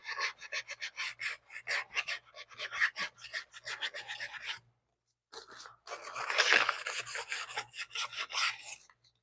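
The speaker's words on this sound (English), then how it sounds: "Wet sand and brake clean." Wet sanding with 600-grit sandpaper and brake cleaner on the paint of a 1966 Monaco makes rapid, rhythmic back-and-forth scrubbing strokes, close and gritty, with one brief pause before a harder run of rubbing.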